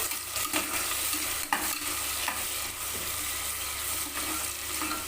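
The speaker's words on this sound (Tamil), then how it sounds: "வெங்காயம் வந்து நல்லா செவந்து வர அளவுக்கு வதங்கணும்" Onions sauté in a hot pan for a chicken samba rava biryani, giving a continuous close sizzle with repeated scraping and stirring strokes. No one speaks.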